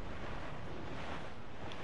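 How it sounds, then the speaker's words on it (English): Steady rushing wind blows loud and close, released from a legendary wind gauntlet during a ship battle in a sailing video game, a continuous airy whoosh with no pauses. "I'm gonna let off the wind."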